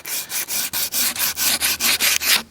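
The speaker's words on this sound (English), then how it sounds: "we can then come in with the sandpaper" Sandpaper rubs back and forth over a wooden axe handle to strip old varnish, about a dozen even, rhythmic strokes, close and distinct, with no voices.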